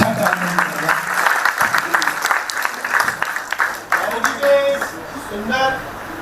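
Audience applause after a speech at a Hindi-language talk, a sustained loud wash of clapping from a crowd throughout, with voices and some tonal sounds near the end.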